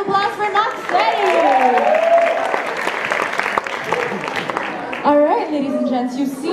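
Audience applause for a contestant at an idol-style singing competition in Montreal, a dense, steady wash of clapping and crowd noise with cheers and whoops riding over it, close and loud throughout.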